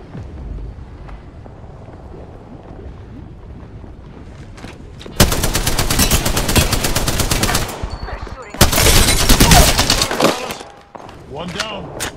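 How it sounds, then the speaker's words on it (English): Gunfire in Apex Legends, two loud close bursts of rapid automatic shots following quieter game ambience, with softer noises and a voice after. "Shots fired."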